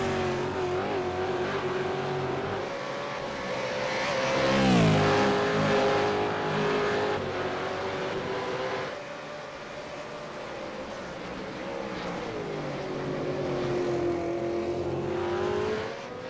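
V8 race cars in a game drive the Belle Isle circuit, engines revving up and down through corners with shifting pitch, loud and continuous throughout.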